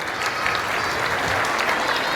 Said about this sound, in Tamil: நம்ம கைத்தட்டிடலாம் அந்த 2 பேரும்.